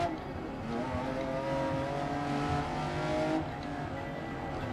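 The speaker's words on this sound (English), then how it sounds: "Really open up the throttle now." A race car engine in GRID Legends roars steadily at full throttle, a dense continuous drone that dips slightly near the end.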